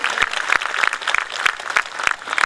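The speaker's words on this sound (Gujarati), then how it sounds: "એની માટે આપણે સૌ એકવાર સમાજના દરેક ટ્રસ્ટીઓ માટે ખૂબ જોરદાર તાળીઓ પાડીએ" A crowd claps steadily for the trustees at a Sharad Purnima gathering held by Umiya Sansthan in Gandhinagar, with sharp, dense hand claps carrying on without pause and no one speaking.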